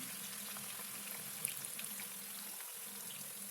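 Onions fry in oil for chicken biryani, giving a steady, soft sizzle with a faint low hum beneath and one small pop.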